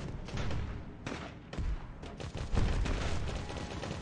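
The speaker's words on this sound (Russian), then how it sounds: "Пушки тратят патроны во время стрельбы." Cannons fire in the steampunk tower-defence video game Steampunk Tower 2, a dense, busy volley of booming shots and thuds that runs continuously and loudly throughout.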